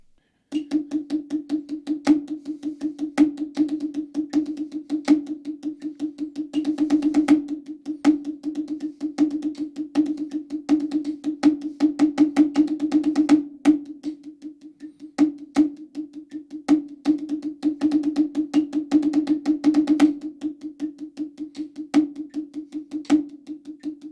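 Rapid snare-like drum strokes in a steady roll, with periodic louder accented hits and shifts in volume, played alone.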